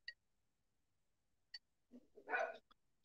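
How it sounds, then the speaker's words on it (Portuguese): A dog by a gate squabbles with another dog, letting out a brief cluster of barks after quiet, with a few faint yips around it. "o cachorro tá tretando com o outro aqui no portão"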